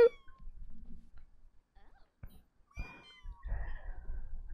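A kitten sitting on a microphone gives a sharp, close meow at the start, followed by soft rustling and faint shuffling sounds nearby.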